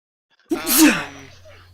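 A single sharp sneeze bursts out close by, starting with a quick intake and trailing off into a breathy fade.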